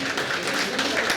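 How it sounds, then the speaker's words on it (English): Audience clapping at a university digital masterclass session, a brief burst of dense hand claps that stays steady and fairly close for about a second, with no talking over it. "Please clap hands for this one."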